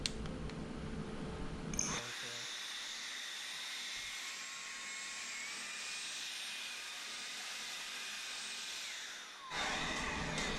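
Compressed-air blower driving dust out of a graphics card outdoors, a steady loud whooshing hiss with a motor whine that holds for about eight seconds between louder bursts at the start and end.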